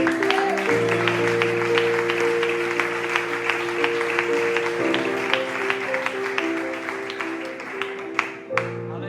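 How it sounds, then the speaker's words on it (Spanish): A church congregation claps together during a service, with light, steady applause over sustained keyboard chords that shift once or twice. The clapping fades near the end. "Si lo crees, por favor, dale un aplauso a Dios."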